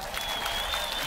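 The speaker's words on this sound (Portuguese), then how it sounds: "queria uma salva de palmas para a nossa Martinha" A live concert audience in Rio de Janeiro claps for a dancer named Martinha, and the clapping stays dense and continuous through a brief moment.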